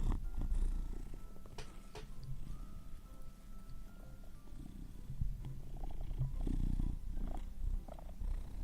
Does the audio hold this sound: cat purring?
yes